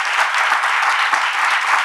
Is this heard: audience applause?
yes